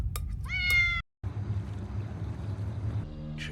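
A cat meows loudly and up close in the opening second, with drawn-out harmonic cries, then a brief silence and a low rumbling engine or motor drone under more faint sounds.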